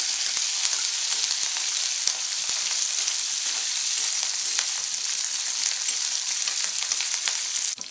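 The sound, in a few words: curry leaves frying in oil while being stirred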